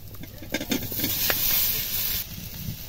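Fried papaya and potato stirred and sautéed in a pan, a steady close sizzle with soft scraping and stirring strokes throughout.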